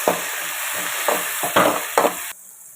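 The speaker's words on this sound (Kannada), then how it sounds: "ಟೊಮೆಟೊನ ಒಂದು ಸ್ವಲ್ಪ ಎಣ್ಣೆಯಲ್ಲಿ ತಿರುತ್ತೀನಿ" Onion and tomato frying in a little oil, a close steady sizzle with several scraping stirs at a regular pace, then the sizzle drops off abruptly.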